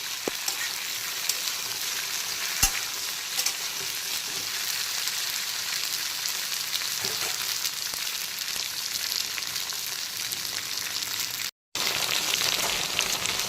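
Okra (ladyfinger) fries on a high flame with a dense, steady sizzle that fills the whole stretch, close and constant with no talk. A couple of sharp clicks sound, and there is one short dropout near the end.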